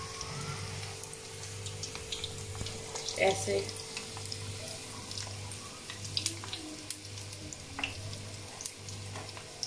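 Fish pieces sizzle in hot oil in a pan, a steady crackling fry with occasional pops and a low repeating hum underneath, fairly quiet throughout.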